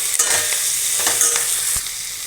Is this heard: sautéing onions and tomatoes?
yes